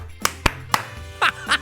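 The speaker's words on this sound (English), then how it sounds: "If you're happy and you know it, clap your hands" A few sharp, close hand claps fall in an uneven rhythm, followed by two brief bursts of a different, higher-pitched sound, in a quiet room.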